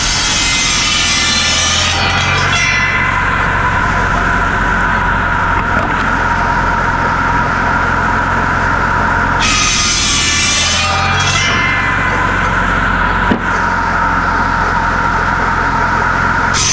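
A PTO-driven buzzsaw on a 1949 Farmall Cub tractor cuts kindling wood at a cabin, a loud, steady whining drone with the blade's pitch shifting as two cuts bite into the wood, no talking.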